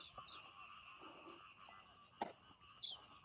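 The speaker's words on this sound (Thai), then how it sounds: "ฟังเสียงกบเสียงเขียดร้องละงมเลยนะ" Frogs croak in a rice-straw field at morning, with repeated short, faint calls and chirps layered across the background, a couple of louder croaks standing out near the end.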